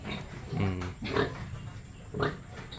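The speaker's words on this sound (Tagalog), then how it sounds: "Ito yung mga baboy natin." Pigs on a farm giving three short, close grunts at irregular intervals, with low snuffling between them.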